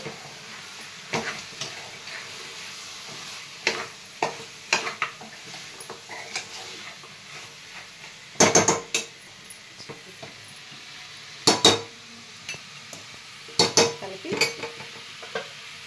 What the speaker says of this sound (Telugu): 2 టమాటా ముక్కలు వేసి ఒకసారి కలిపి